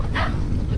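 A Siberian Husky or German Shepherd wearing a GoPro gives a single short, close bark or yelp that stands out over background noise.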